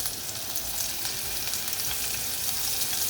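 Green chili sizzling in hot oil in a home kitchen pan, a steady dense crackle and hiss held close and continuous throughout, with no talking.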